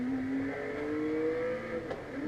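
A simulated race car in the RaceRoom racing game runs in second gear around 4,000 RPM, its engine tone rising steadily as it pulls, with a brief dip and a short blip near the end.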